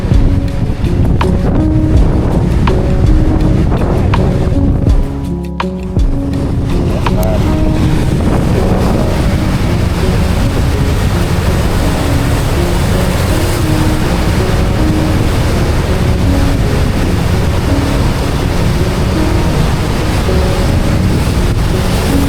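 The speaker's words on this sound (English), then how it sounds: "Gotta hold my hat on because the wind's just ruthless." Strong wind gusts buffeting the microphone on an exposed stretch of coast, with waves surging nearby, loud and continuous throughout, with a brief dip in the roar near the middle.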